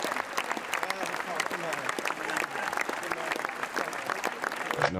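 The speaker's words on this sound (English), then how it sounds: "we continue to applaud" A crowd of audience members applauds steadily and densely at a film screening in Cannes, the clapping filling the space throughout with no pauses.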